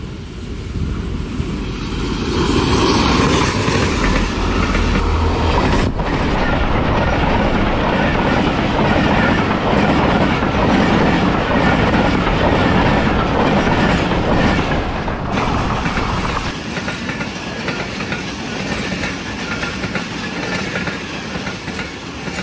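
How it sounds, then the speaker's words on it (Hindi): Jaffar Express passenger train hauled by locomotive ZC20 6408 rolls past Haripur Band station at speed, a loud, sustained roar and rhythmic clatter of carriages close by, steady for over twenty seconds. "दोस्तों अभी आपने देखी 49 जाफर एक्सप्रेस"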